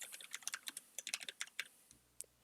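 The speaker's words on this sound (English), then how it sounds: "Notice that you have to type in permanently delete" Typing on a computer keyboard: a quick run of crisp, close key clicks in an uneven rhythm, quiet and alone, with a few last isolated taps.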